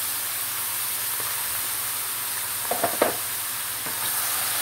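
Meat for Turkish kavurma hits a very hot pan, giving a steady broad sizzle and hiss with a few sharper crackles and pops midway, close and continuous without speech.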